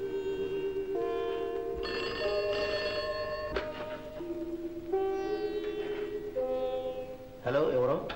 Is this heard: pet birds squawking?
no